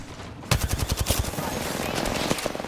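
Rapid automatic gunfire in the battle-royale video game Apex Legends: a dense burst of shots starting abruptly, loud and close, followed by scattered further shots and game noise.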